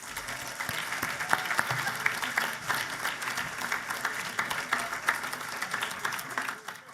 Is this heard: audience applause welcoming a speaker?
yes